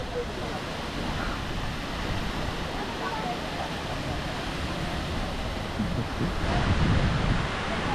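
Steady, dense rushing water of Phe Phe Waterfalls in Meghalaya roars continuously, a broad wash of noise that swells slightly near the end.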